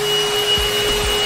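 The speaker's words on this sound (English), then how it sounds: "I can't hear you over the Hoover." A Hoover vacuum cleaner runs with a loud, steady whine and hum close by, with a couple of dull bumps partway through and no speech.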